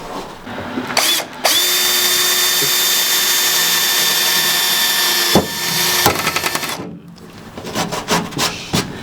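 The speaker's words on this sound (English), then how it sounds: "You ready to drill into your trunk" Power drill boring through the trunk lid of a 2019 Subaru WRX with a small bit for a wing install: a sustained high whine running about five seconds, cut off, then a brief restart followed by rasping, scraping tool noise.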